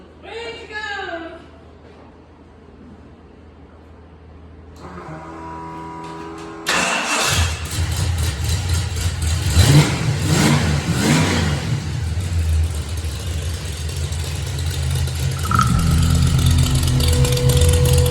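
A Ford Fox body car with an aftermarket exhaust starts up and revs, a deep, rumbling engine note rising and falling close by after a quieter opening, with people talking over it.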